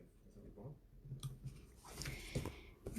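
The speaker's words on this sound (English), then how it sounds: "So I'm just going to trim this border off here." A paper border trimmed from a scrapbook layout, with a few soft, close snips and clicks of the cutter spread irregularly over a few seconds.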